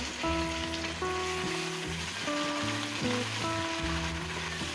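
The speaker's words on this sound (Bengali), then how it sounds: "ভেজে নিচ্ছি 2 থেকে 3 মিনিট" Onion, ginger and garlic paste for egg korma sizzles in hot oil, a steady close hiss with a few soft stirring knocks and faint background tones running throughout.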